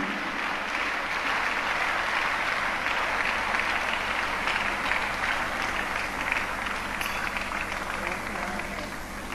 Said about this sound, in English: Let us give a round of applause as we welcome his beloved wife, our wonderful Auntie Tammy Adeboye.